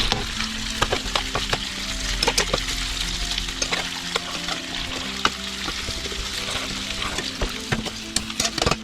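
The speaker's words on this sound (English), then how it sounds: "Get those onions mixed in there good." Onions sizzling and frying in a pot while being stirred, with a steady close hiss and frequent scraping and clinking taps of a utensil against the pot, no talk.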